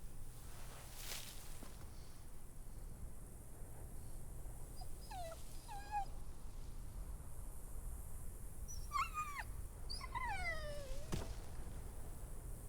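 A dog whimpers in the video game The Walking Dead, several thin, high, wavering whines coming in short clusters over a faint background hum.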